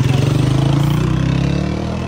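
An engine runs steadily at a building construction industry exhibition, a close, continuous low hum with a fast, even pulsing throb that holds for the whole stretch without any clear speech over it.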